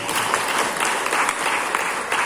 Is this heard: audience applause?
yes